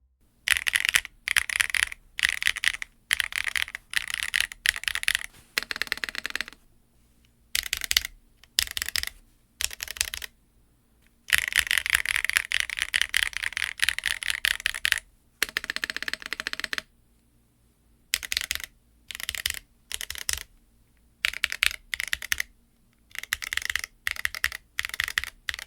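Typing on a Cycle8 TKL mechanical keyboard: fast bursts of clacking keystrokes, close and clear, broken by short silent pauses between runs.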